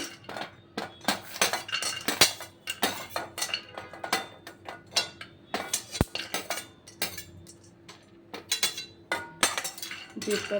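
Cashews being dry-roasted in a pan for dry fruit laddu, the nuts tumbling and clinking against the metal with rapid, irregular rattles and scrapes of a spoon, close and fairly loud, with no talk.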